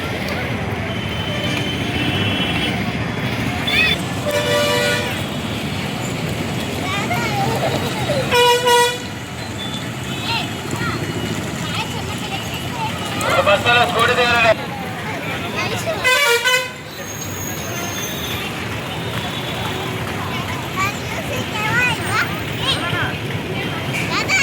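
A green bus moves through busy road traffic while vehicle horns give several loud, separate blasts over a steady engine and road rumble, with people talking throughout.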